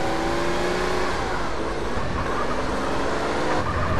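A car is driven in GTA San Andreas by Carl Johnson, its engine holding a steady, loud drone with shifting tones as it takes corners, continuous and close with no pauses.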